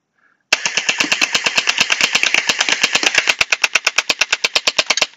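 An Anstoy Desert Eagle gel blaster fires gel beads in a rapid, evenly spaced burst of loud snapping shots, close up, running for several seconds with no talk.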